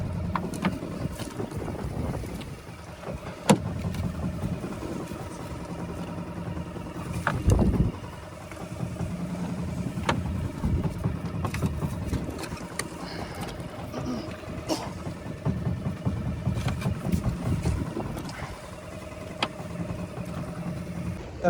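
A boat being moved by a vehicle down toward the sea on a pomfret fishing trip: a steady low engine rumble with wind buffeting the microphone, and a few knocks and thumps over the drone.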